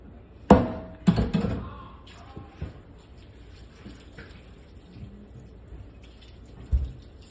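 Tap water runs while goat meat is washed in a kitchen, a soft steady trickle behind a few sharp knocks and splashes near the start and one more near the end.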